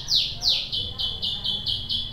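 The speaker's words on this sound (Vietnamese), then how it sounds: "tiếng chim hót rất là to luôn nha mọi người" Birds chirp loudly just behind the person: a run of sharp, repeated high tweets in a quick, even rhythm, close and prominent over a quiet background.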